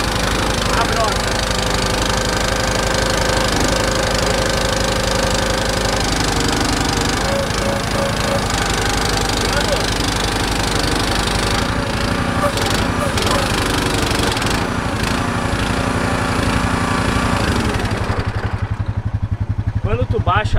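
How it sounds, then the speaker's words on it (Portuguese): A tractor engine drives a soil sampling drill at a summer field day, running loud and close throughout at a steady idle-like chug, with voices talking over it and a brief easing of the engine near the end. "liga a broca. Depois que ligar a broca, tu baixa"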